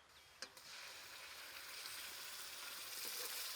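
Ground tomato, onion and chili paste hits hot oil with a couple of sharp splashes, then settles into a steady, loud, close sizzle that holds without pause.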